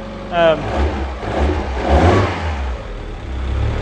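A Mazda Miata engine with slight lifter tick revs up with a rising, throaty surge, eases off, and settles back into a steady idle, heard up close.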